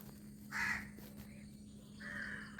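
Crows caw in two separate bursts, one early and a longer one later, over a steady low hum and faint background noise.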